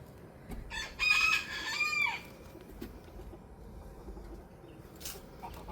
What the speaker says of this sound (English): The chickens are hot, but they have a shade.